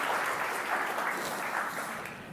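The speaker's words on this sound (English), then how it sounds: "You can clap, you can say yes" An audience claps for a couple of seconds at a technology conference, a steady, fairly faint patter of many hands filling the hall.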